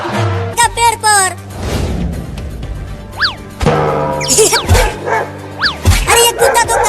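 Dog barking in a series of yips and bow-wows, close and loud, with a short whimper, mixed with people talking and background music.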